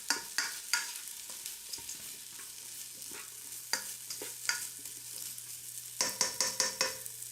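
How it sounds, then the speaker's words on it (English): Onions sautéing in a pot for Filipino chicken pasta soup, a soft steady sizzle broken by repeated scraping stirs, clustering into quick bursts near the end, with no one speaking. "I think the saute is done"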